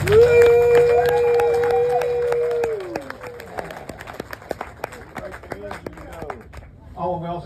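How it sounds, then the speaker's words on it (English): A crowd cheers and claps for employees at an outdoor patio reveal: a loud whoop and sustained cheering at first, then scattered sharp claps that thin out, with voices returning at the end. "I want to give them a big round of applause"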